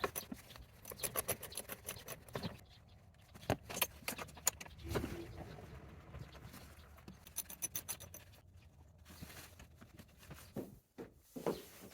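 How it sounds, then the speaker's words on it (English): A tiny 1/4 inch socket wrench backs bolts out in a cramped camper van during a swivel seat install, giving irregular bursts of metallic ratcheting clicks and scrapes with brief pauses between them. "I've got to get this tiny 1/4 inch socket wrench and work the bolts out"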